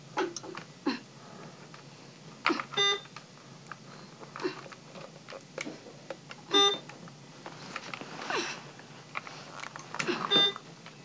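Repeated electronic beeping recurs in short bursts through a Minecraft 1.40 let's play recorded in a hospital setting, sitting over a low background hum with no talk.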